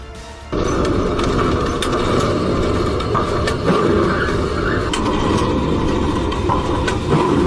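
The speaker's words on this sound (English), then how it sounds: "A Brightline train slammed into a car Wednesday morning in North Miami Beach" A Brightline train runs past just after hitting a car at a crossing in North Miami Beach. A loud, steady rumble of rail noise starts suddenly and carries on, with faint clicks and metallic squeals over it.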